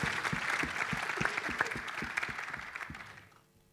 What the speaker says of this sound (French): pour les mécanos, je crois que vous pouvez les applaudir une nouvelle fois